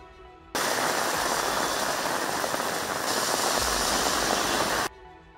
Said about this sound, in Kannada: ಸಂಜೆ ಆಗ್ತಿದ್ದಂತೆ ಮಳೆಯ ಹೊಡೆತ